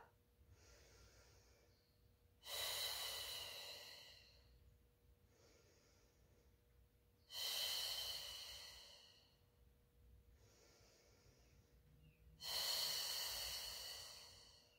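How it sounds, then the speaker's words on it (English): Deep breathing during a Pilates mat exercise: three slow cycles of a soft inhale followed by a loud, long, breathy exhale, evenly spaced and close. "We'll go for 3 extra breaths at the top."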